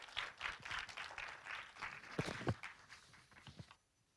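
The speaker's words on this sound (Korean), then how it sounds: "네, 박수로 환영해 주시기 바랍니다." Audience applause at a Korean online journalism award ceremony as the presenter is called to the stage, a steady patter of many hands clapping for about four seconds before fading out.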